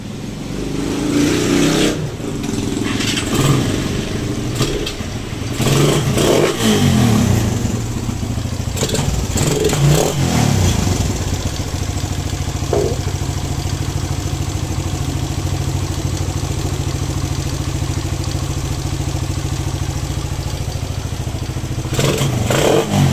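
A motorcycle engine with a manual timing-chain tensioner and about 45,000 km on it runs with mechanical noise from a worn timing chain, idling steadily with several revs and a clattering undertone, close by.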